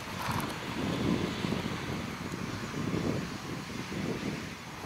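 Wind blows at a weather balloon launch outdoors, a steady low buffeting rush against the microphone lasting throughout, with no voices.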